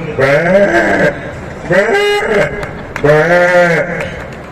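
Sheep bleat three times in long, wavering, nasal calls spaced about a second apart, loud and close at a rural gathering, with no other voices over them.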